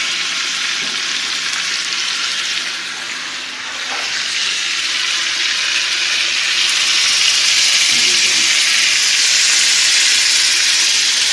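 Steak searing in a hot pan during late-night home cooking, a loud steady sizzle that runs the whole time, dips briefly, then swells fuller and brighter.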